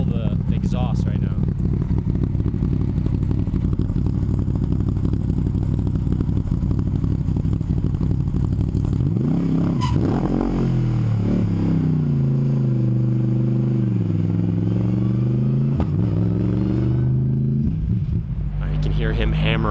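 A loud engine roars continuously as a race car rips around a track, with the pitch sweeping up and down through gear changes and passes.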